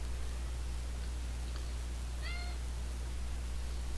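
A house cat gives a single short meow, faint and set against a steady low hum and soft background hiss in an indoor room, with no speech.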